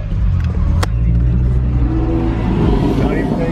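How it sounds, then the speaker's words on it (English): A lowered Porsche 911 with an aftermarket exhaust revs, a loud, close, continuous rumbling engine note that climbs through the clip. "Sounds like an aftermarket exhaust."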